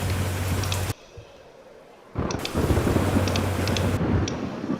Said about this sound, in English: Looks like we have a new storm forming, so let's get this intercept.